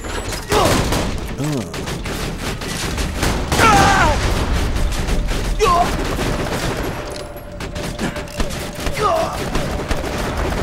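Shotgun blasts and other weapon fire in the shooter game Borderlands, repeated loud booms and bursts with game sound effects layered over a busy background.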